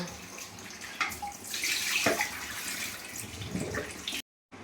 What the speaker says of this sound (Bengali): পটলগুলো কেটে নিয়ে চলে আসলাম। সুন্দর করে একটু ধুয়ে নেব।